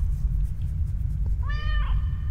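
An orange cat in The Stairway 7 video game gives a single clear, drawn-out meow over a steady low background hum.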